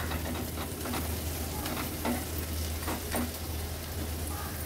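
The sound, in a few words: mashing cooked tomatoes in a sizzling pan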